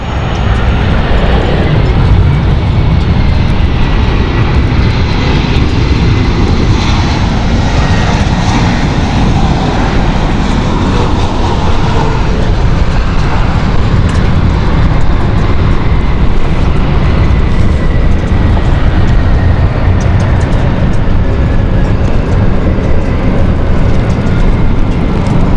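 An airliner on the Berlin flight at London City Airport, its engines roaring loud and close in a long sustained rumble, with a faint whining tone sweeping gradually downward through the noise and no one speaking.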